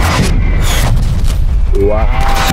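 Heavy booming explosions from an artillery strike in Black Ops Cold War on the Satellite map in Hardpoint mode, loud and dense, with a brief voice near the end.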